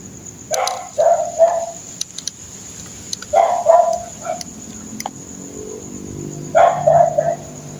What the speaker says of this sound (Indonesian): Anjing gonggong gara-gara buka gerbang.